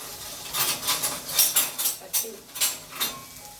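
Crushed spice paste stirred in a cooking pan for a leaf thoran, a spoon scraping and knocking against the metal in about eight distinct rhythmic strokes, close and clear.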